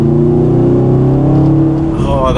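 A Subaru STI engine gives a deep, steady rumble up close that swells briefly near the end, as if lightly revved.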